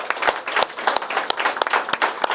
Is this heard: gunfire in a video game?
no